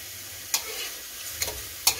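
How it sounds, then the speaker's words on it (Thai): Cut enoki mushrooms dry-roasting in a pan with no oil, a soft steady crackle under three sharp scraping clicks of a utensil stirring them. "แล้วก็เอามาลงกระทะคั่วค่ะ คั่วให้เขาหอมนะคะ"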